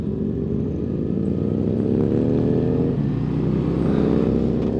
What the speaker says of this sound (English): I can't even think with those motorcycle engines.